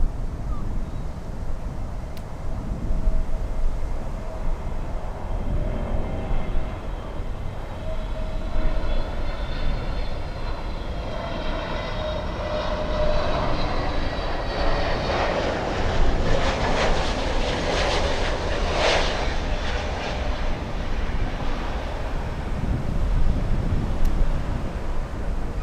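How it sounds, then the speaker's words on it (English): An American Airlines Airbus A321 arriving from Cancun roars in with a broad, loud jet rumble and whine that builds and holds steady throughout, heard from fairly close. "It's an A321 American 2665 flying in from Cancun,"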